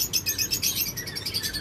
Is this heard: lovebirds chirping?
yes